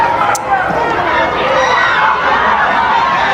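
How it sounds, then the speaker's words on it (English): A crowd at a high school men's soccer match between Abilene High and Cooper, cheering and chattering in a dense, steady roar that fills the air without letting up. "You hear the crowd cheering."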